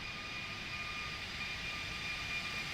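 An Airbus A340-600 landing in X-Plane 12 with reverse thrust, a steady broad jet roar holding at an even level throughout, with a faint high whine on top and no voices.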